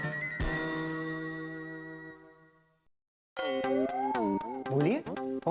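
An apartment doorbell on a second-floor landing gives one bright chime that rings and slowly fades over a couple of seconds, followed after a short gap by louder background music and voices.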